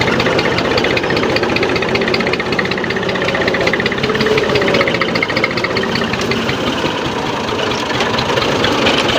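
A tractor engine runs steadily nearby, a loud continuous low rumble with rough knocking pulses and vibration, no break in the sound.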